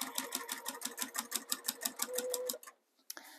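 A sewing machine stitches a small free-motion quilting circle, its needle chattering in a rapid, even rhythm close up, then stopping abruptly with a brief click after.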